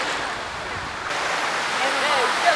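Flowing water from a village lake where many people are bathing, a broad steady rush heard close with faint voices and splashing in the background.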